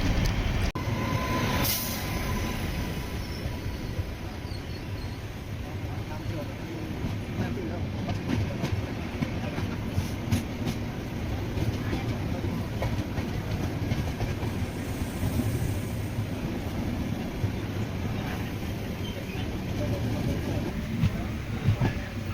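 Chennai–Lokmanya Tilak superfast express train running on rails, heard from on board: a steady loud rumble with rhythmic clickety-clack of wheels over rail joints and occasional brief squeals.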